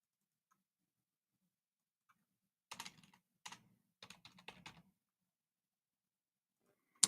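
Keys on a computer keyboard tapped out while entering a number: a few quick bursts of clicks in a short run, close and fairly quiet, with a sharper click at the end and no talking.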